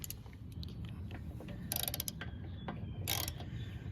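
Ratchet wrench with a socket working on the spark plug of a Husqvarna HU700H riding mower that sat unused for over three years, giving a few bursts of rapid clicking amid faint handling noise, close by and without talk.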